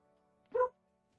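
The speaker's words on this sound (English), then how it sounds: "He's just barking from his bed." A dog gives one short, sharp bark from his bed indoors right after a doorbell rings, then falls quiet.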